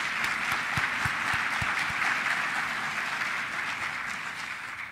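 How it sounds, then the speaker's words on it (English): An audience at a travel and tourism conference gives a sustained round of applause, a steady wash of many hands clapping with a few sharper claps standing out early on. "So let's give him a great round of applause."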